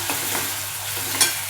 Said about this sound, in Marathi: चांगला परतला कांदा.